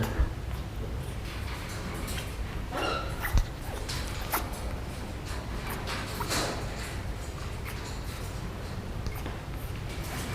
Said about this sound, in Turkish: Bakın papağan böyle yavru köpek sesi gibi bir şey çıkarıyor.